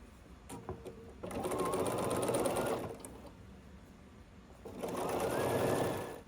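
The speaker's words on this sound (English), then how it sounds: "we're going to sew these together in a line" A sewing machine stitching half square triangle quilt pieces together in a line runs in two close bursts of steady mechanical whirring, separated by a short pause with light handling noise.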